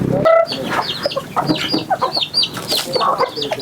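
Chickens cluck loudly and close around a brooding hen that has sat on a clutch of eggs for about three weeks, with overlapping rapid clucks and short squawks on a farm.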